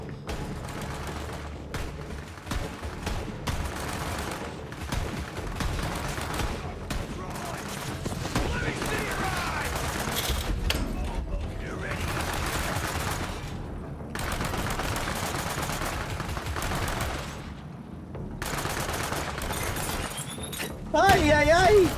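Video game gunfire crackles in dense bursts and volleys with breaks between, while a person talks and exclaims over the shooting.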